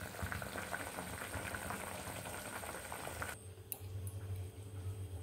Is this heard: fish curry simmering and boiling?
yes